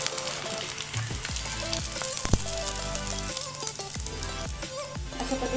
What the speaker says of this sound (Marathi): पापडी आपण तेलामध्ये तळून घेतो.